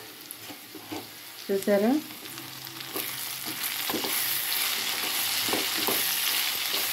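Curry cooking in a pan, a steady soft sizzle and crackle that grows louder in the second half, with brief talking and a short tonal sound early on.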